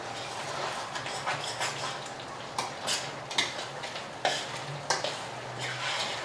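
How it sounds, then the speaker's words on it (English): A spoon stirring thick tandoori chicken vindaloo sauce in a pot, with gentle scraping and a few sharper knocks against the metal over a faint bubbling sizzle, close and quiet. "We're going to stir it now, make sure it didn't stick during the 15 minutes"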